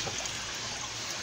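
Water being stirred by hand after two handfuls of salt are added, while preparing a tank for betta fry, giving a steady close swishing and trickling sound with no talk.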